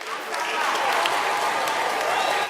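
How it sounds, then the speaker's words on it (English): An audience at a televised talent show results night claps in a full, continuous round of applause, dense and even throughout with faint crowd voices mixed in underneath. "Can we get a round of applause for him?"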